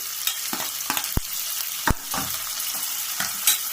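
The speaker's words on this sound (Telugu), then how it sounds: "బాగా కలుపుకోవాలండి" Green chilies, coriander, curry leaves and mint stirring in a hot frying pan for Shahi baghara dalcha: steady close sizzle with a few sharp spatula scrapes and knocks against the pan.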